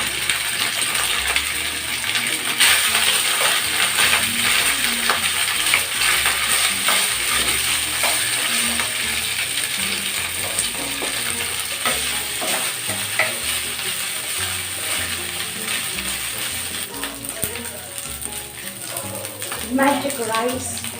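Leftover cold rice stir-frying with garlic in oil over medium-low heat, a steady sizzle throughout with repeated metallic scrapes and clinks of a spatula against the pan.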